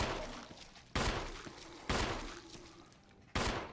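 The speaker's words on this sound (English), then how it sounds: "oh, you're shooting on the floor" Gunfire in the video game Resident Evil HD Remaster: three sharp, loud shots spaced about a second apart, each followed by a decaying echo.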